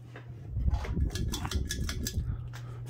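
A Key Largo Chaparral 52-inch ceiling fan running on medium speed with blade wobble gives off a faint, steady low hum mixed with light rattling and clicking.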